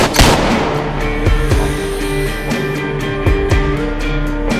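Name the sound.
gunshot sound effect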